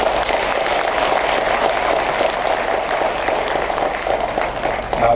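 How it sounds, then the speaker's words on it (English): At the opening of a wind energy project, a crowd gives a steady round of applause. Dense clapping comes from fairly close and keeps an even level for about five seconds. "they need to be applauded for having lived up to that promise"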